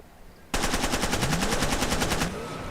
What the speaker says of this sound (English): Here's the Uzi in action.